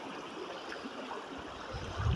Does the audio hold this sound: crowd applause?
no